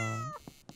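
A cat in a video game gives a single short meow that falls in pitch, followed by faint game sounds.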